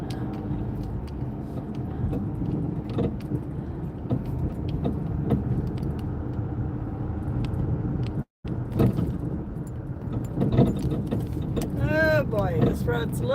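A rattly old car that needs new struts drives a bumpy road on a rainy day, with a continuous engine and road rumble and scattered knocks and rattles. The sound cuts out briefly midway, and a squeaky sound rises near the end.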